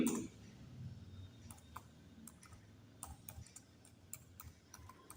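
Quick, light keystrokes on a computer keyboard enter text into an MS Word document, irregular clicks in short bursts over a quiet room, with no one talking.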